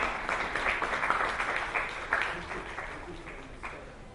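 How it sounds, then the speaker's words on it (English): A summit audience gives brief applause for an education speaker, a modest patter of clapping that swells early and then fades over a few seconds. "Let's give her a big round of applause, please,"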